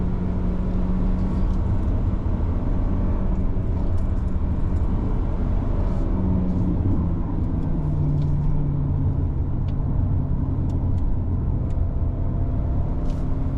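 A Jaecoo J7 AWD with a 1.6-litre turbocharged engine drives along a damp road, giving a steady, loud low rumble of engine and road noise throughout with no talk.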